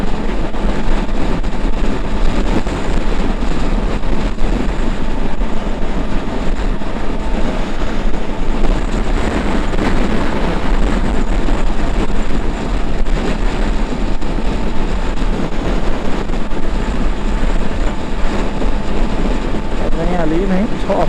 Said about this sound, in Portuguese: porque o vento tá forte.